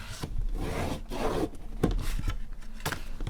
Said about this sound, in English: And then you can go through and burnish or flatten your edges when you're done.